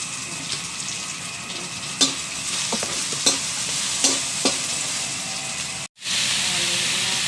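Papaya escabeche with onion, garlic and chili being stirred in a pan, a steady loud sizzle and hiss of frying with occasional scraping clinks of the spoon, briefly cut off before the sizzling resumes.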